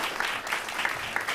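Brief burst of audience applause at an agriculture and climate resilience panel, a steady crowd of hands clapping, moderately loud with no voices on top.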